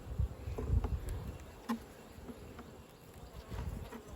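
Honey bees hum around an opened hive in an apiary during autumn feeding and winter prep, a steady close buzz with occasional nearer passes and soft handling knocks.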